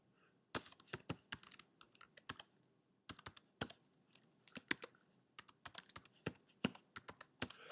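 Quiet computer keyboard typing, rapid irregular key clicks in bursts with brief pauses, close and soft with no talking.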